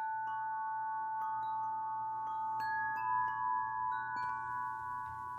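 A 30-inch Wind River Eclipse Collection wind chime rings with sustained, overlapping metallic tones and occasional light strikes, steady and moderately quiet throughout with no voices.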